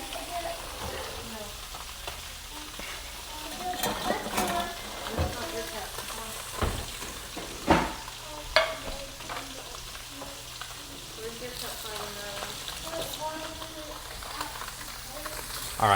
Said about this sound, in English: Nice sizzle lets you know that your pan was perfectly heated